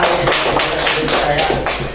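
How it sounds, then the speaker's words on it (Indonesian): Schoolchildren in a fifth-grade classroom applauding together, a dense, steady patter of many small hands clapping close by for about two seconds. "tepuk tangan untuk kalian semua"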